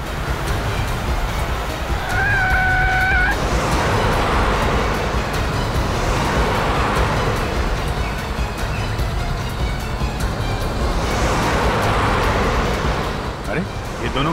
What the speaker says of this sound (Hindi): अरे ये दोनों गाड़ियां अलग अलग रास्ते पे चली गई।